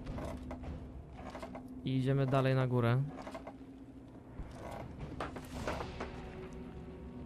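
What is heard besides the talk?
door being unlocked in video game This War of Mine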